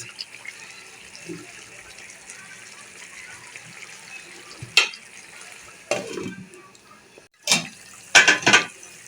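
Previously fried roast pieces and four or five green chillies go into a pan, giving a low steady sizzle broken by several sharp bursts of spatter and stirring clatter near the end.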